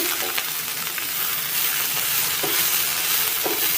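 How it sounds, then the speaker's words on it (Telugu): Thinly sliced bitter gourd frying in an uncovered pan, a constant close sizzle broken by a few soft scrapes of stirring, with no voices. "ఇప్పుడు ఒకసారి మూత తీసి కలబెట్టుకోండి."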